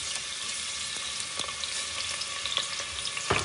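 Chopped onion fries in hot groundnut oil for a mutton curry, giving a dense, even sizzle with a few faint clicks of stirring, close by and unaccompanied by voices.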